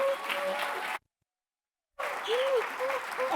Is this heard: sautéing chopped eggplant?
no